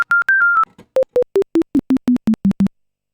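A sequence of synthesized DTMF phone keypad tones made in Bitwig: a few high beeps in quick succession, then a steady run of lower-pitched beeps, evenly spaced and clean.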